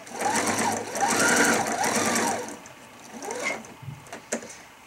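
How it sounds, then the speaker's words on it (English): A sewing machine runs close and steady, stitching quilt binding toward a corner in a few bursts of rhythmic needle chatter, then slows and stops with a couple of soft clicks. "I'm going to stitch to about 1/4 inch from the edge of my piece and stop there."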